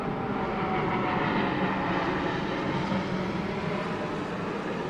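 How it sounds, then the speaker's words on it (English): A jet airplane passing over a city, a broad continuous roar that stays loud and fairly even for the whole stretch, with no talk. "we'll wait for this plane."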